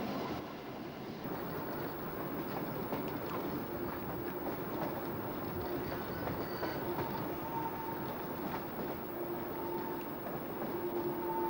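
A train rumbles steadily along a suburban line near Victoria Park Station, a continuous rolling roar with faint rhythmic clatter and a light squeal, no voices.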